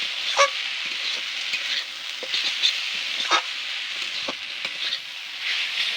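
Fried jackfruit seeds go into a pan of cooking jute greens, setting off a steady sizzle with scattered clicks and stirring scrapes, close and continuous throughout.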